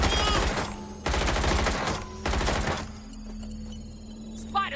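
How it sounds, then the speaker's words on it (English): Deployed turret in Watch Dogs: Legion firing sustained bursts of automatic gunfire, loud and dense, in three long volleys separated by brief gaps, then a quieter stretch with faint game sounds. "I got my turret set up."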